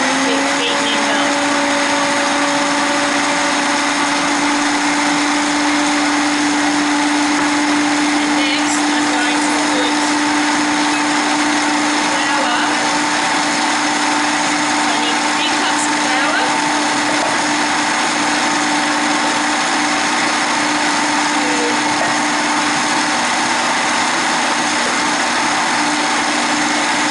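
Electric hand mixer running steadily as egg and vanilla are beaten into sugar cookie dough, a continuous high whirring drone that holds loud and even throughout with little variation.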